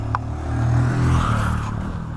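A motorcycle engine rumbles past at an old abandoned apartment block in Ipoh, swelling and then fading as it rides out, moderately close, with no one talking.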